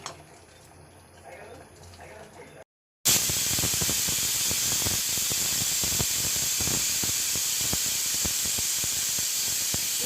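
A pressure cooker bursts into a loud, continuous hissing whistle while cooking dal, after a brief quiet stretch with faint kitchen sounds, and keeps steaming steadily to the end.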